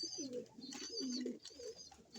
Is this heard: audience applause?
no